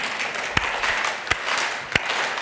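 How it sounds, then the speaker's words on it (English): A group claps hands in unison three sharp times, spaced evenly about three-quarters of a second apart, over quiet room tone. "Okay, let's clap hands 4 times."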